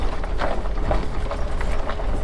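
A dually pickup carrying a camper rattles and jolts over a rocky, washboarded dirt road in Pine Canyon, Big Bend, with a steady loud low rumble and repeated knocks and bumps throughout.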